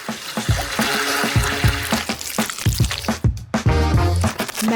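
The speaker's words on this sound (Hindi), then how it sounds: "जेलेटिन को चीनी और पानी के साथ मिलाऊंगी" Gelatin, sugar and water are stirred and beaten together in the kitchen, giving a run of wet, squishy slaps and dripping splashes in an uneven rhythm, close and fairly loud with no talking.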